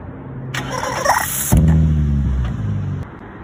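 A car engine cranks and starts with a rubber chicken taped into the exhaust pipe; a loud rising whine gives way to a strong rumbling idle, then a sharp squeak near the end.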